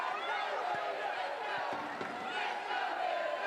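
An Aston Villa crowd at a women's league football match against Tottenham Hotspur roars in a dense, sustained wash of cheering, with a commentator talking over it.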